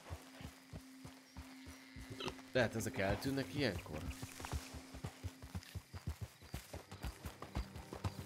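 In a video game, a horse's hooves beat a steady, close clip-clop throughout, with occasional creaks and brief snorting-like bursts, while someone talks over them.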